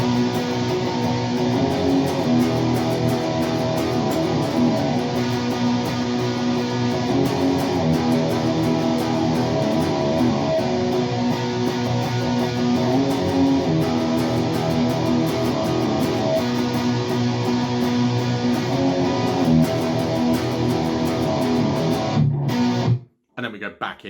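Distorted electric guitar playing a song's rhythm part, a steady, dense, driving strum that continues unbroken for about twenty-three seconds before cutting off abruptly near the end.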